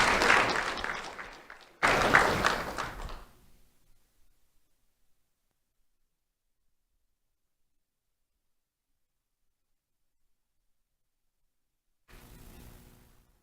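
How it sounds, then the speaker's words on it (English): A ceremony audience applauds two honored students in a broad, dense burst of clapping that fades out after a few seconds, followed by a long silence and then a brief return of noise. "Round of applause for Bailey Marks and Jezebel Schmidlin."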